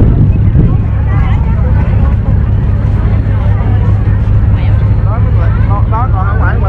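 Fishing boats motoring toward shore at a sea-worship festival in Mỹ Long, Trà Vinh, a steady loud engine drone with wind buffeting, people talking over it.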